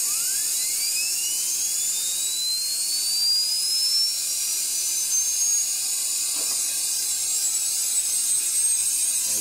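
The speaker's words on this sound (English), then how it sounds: "we'll go ahead and start it up, and we'll be able to hear the spindle and watch the machine reciprocate and rotate" A Moore #3 jig grinding machine spins up its 40,000 RPM spindle with a high-pitched whine that rises steadily in pitch like a dental drill, then holds a piercing, continuous tone close by with no talking.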